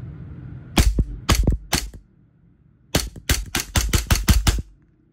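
A WE G19 G4 gas blowback airsoft pistol fires in semi-auto, three sharp snapping shots then a quicker run of about seven more, each crisp and close with a brief pause between groups.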